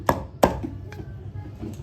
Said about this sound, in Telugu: ఇట్లా అన్ని పచ్చళ్ళు ఇట్లనే వేసి దంచుకోవాలి